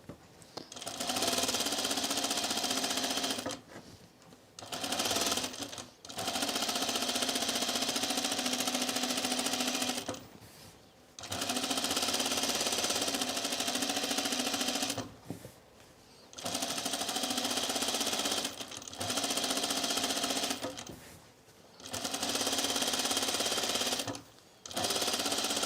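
A sewing machine stitches an Azores dress in repeated bursts of steady buzzing, each run lasting a few seconds, separated by short pauses, close and loud.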